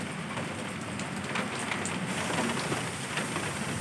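Steady rain falls on leafy potted plants, among them curry leaf plants, a dense even hiss that holds unchanged from start to end with no voices present.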